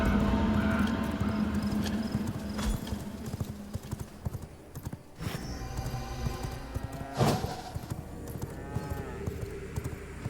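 Horse hooves clip-clop steadily while riding in the vampire survival game V Rising, a continuous close rhythmic trot under ambient game sounds with a brief occasional thud.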